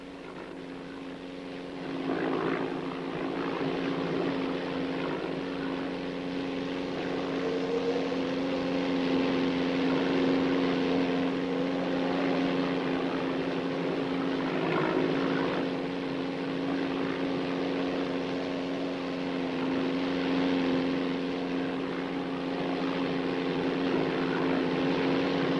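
A propeller airplane flying during a search drones steadily for a long stretch, a continuous tonal engine hum with a droning buzz, fairly loud and unbroken, with no voices.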